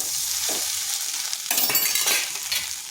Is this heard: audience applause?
no